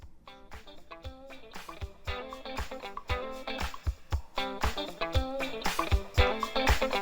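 A GarageBand disco drum loop run through chorus, bit crusher, EQ and a peak limiter: punchy kick and snare hits in a steady fast pattern with crunchy, bright synth-like layers, loud and alone.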